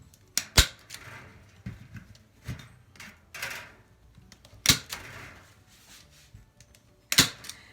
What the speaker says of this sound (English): all we're going to do is use the staple gun and staple this on